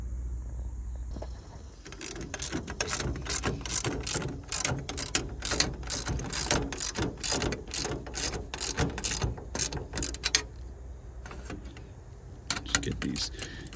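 Hand ratchet tightening the mounting studs of a Softopper on a 1974-1980 Dodge Ramcharger or Plymouth Trailduster, a close run of quick repeated clicks in bursts with short pauses.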